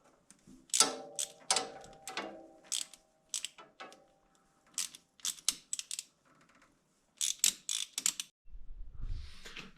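A ratchet tightens hose clamps during installation of a coolant temperature sensor on an ATV, giving repeated short bursts of quick clicking in irregular groups separated by pauses, close and crisp.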